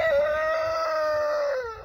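A rooster kept among Brahma chickens crows once, a loud, close, sustained call that trails off at the end, with no talking over it.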